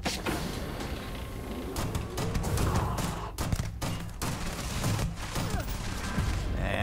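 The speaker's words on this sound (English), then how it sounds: "He starts firing at me again." Repeated gunfire from a pirate in the space game Starfield, sharp bursts and rapid volleys scattered through a dense, noisy battle soundscape with mechanical clanks.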